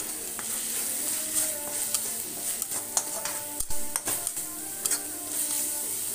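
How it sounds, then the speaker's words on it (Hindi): A spoon stirs turmeric, red chili and coriander powder in a hot pan, with steady sizzling under repeated scraping and clinks of the spoon, close and without speech. "सभी को हम अच्छे तरीके से मिक्स कर लेते हैं।"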